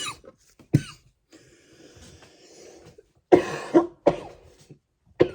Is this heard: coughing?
yes